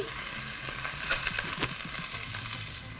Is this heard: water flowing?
no